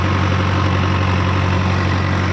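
A Powertrac Euro 60 tractor's diesel engine idles at low RPM, giving a steady, close, continuous low rumble with no talk.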